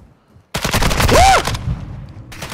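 Burst of rapid automatic gunfire in the video game Call of Duty Modern Warfare 2, loud and close, lasting about a second after a quiet start, with a sharp shot trailing off at the end.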